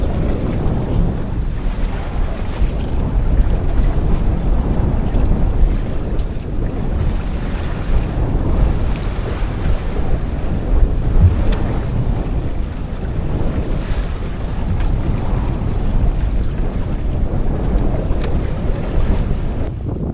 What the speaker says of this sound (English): And waves continue to build.